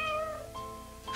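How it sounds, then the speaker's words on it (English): A kitten meows in a cartoon scene from a 1980 anime of Little Women, giving two or three drawn-out, high mews in close succession over soft background music. "bring over this kitten so it can keep you company"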